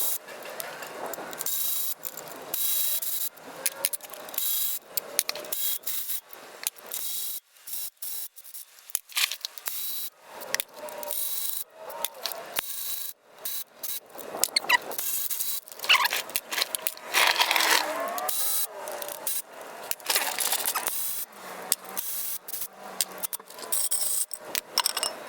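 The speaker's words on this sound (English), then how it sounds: "get the bolts out of the pan and get it dropped" Ratchet and tools working transmission pan bolts loose on a 47RE transmission in a 2nd gen Cummins truck, with close, irregular clicking, scraping and metallic handling sounds in bursts throughout.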